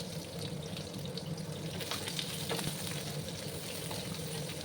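Sliced onions fry in hot oil in a pan for cabbage dum aloo, a steady soft sizzling hiss that runs evenly throughout, close and fairly quiet, with no talking.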